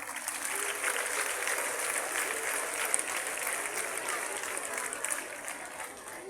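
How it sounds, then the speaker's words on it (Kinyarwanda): A church crowd in Kigali applauds at a children's Christmas celebration led by the Cardinal Archbishop, a steady, fairly faint patter of many hands clapping throughout. "Tubashimire n'amashyi n'impundu."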